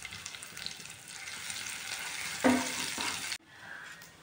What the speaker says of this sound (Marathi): जिरे लसूणची पेस्ट, कढीपत्ता थोडासा, त्याला छानसं परतून घ्यायचं थोड्या वेळ